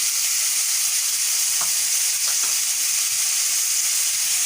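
Spiced chicken drumsticks with cumin powder and black pepper sizzle steadily in a pan as they are mixed, a continuous loud hiss of frying with a couple of faint stirring scrapes.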